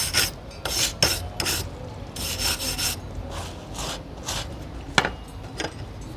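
A wire brush scrubs slag off a fresh weld in a run of quick, close, rasping strokes in an uneven rhythm, ending with one sharp scrape.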